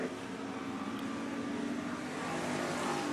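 Micro sprint race cars lap a speedway on opening weekend, a steady, dense roar of engines holding at one level throughout, with no individual pass standing out.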